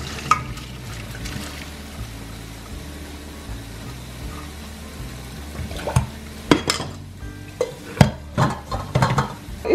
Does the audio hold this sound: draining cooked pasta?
yes